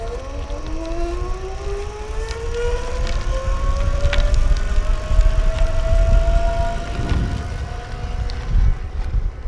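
Electric bike fitted with an EBO Commuter Kit hub motor climbs a hill on throttle alone, giving a steady rising whine that glides upward over several seconds above constant wind and road rumble.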